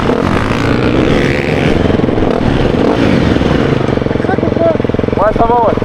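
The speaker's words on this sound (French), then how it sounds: "Là on n'a qu'une envie, c'est d'essayer cette moto" A 250cc motocross dirt bike runs loud and close on a track, its engine droning steadily throughout with rhythmic pulsing, a few brief high tonal chirps near the end.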